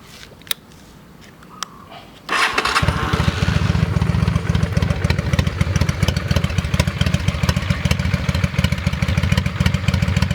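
A Honda Steed 400 bobber motorcycle engine fires up after a couple of quiet clicks and settles into a loud, close, lumpy idle with a steady throbbing rhythm.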